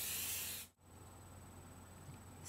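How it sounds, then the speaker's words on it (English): A short hiss of Aussie High Hold High Shine hairspray from an aerosol can, close and fairly loud, cutting off sharply after about half a second and followed by quiet room hiss. "First, I'm going to spray my hair with this Aussie High Hold High Shine"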